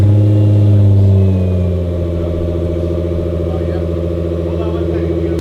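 Nissan GT-R Nismo fitted with a 4-inch exhaust, 3.5-inch downpipes and upgraded turbos, firing up with a loud deep burst then settling into a steady, throbbing idle close by.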